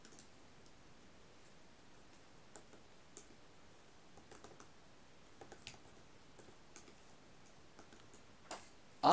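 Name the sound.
typing code on a computer keyboard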